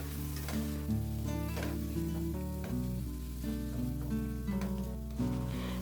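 Onions and tomatoes for tomato rice sizzling in a pan as they are stirred together, a close frying hiss with occasional scraping, set against steady background music.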